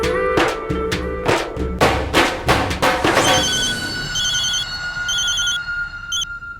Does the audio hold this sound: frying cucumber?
no